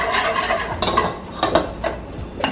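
Plantain porridge mixed with a whisk in a pot, giving close, uneven scraping and clinking strokes in quick bursts with no talking.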